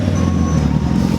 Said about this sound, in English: these awesome cars behind us roll in making noise